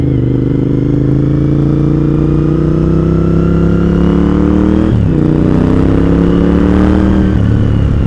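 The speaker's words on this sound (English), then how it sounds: "This V2 sounds good." A Suzuki V-twin motorcycle being ridden on winding Arkansas roads: a loud, continuous engine drone that rises in pitch, drops abruptly with a shift, then climbs again, with wind rush throughout.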